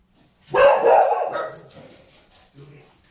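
Dogs bark indoors, a sudden loud burst of several overlapping yaps and barks that trails off into softer yips and whimpers, then one short bark near the end.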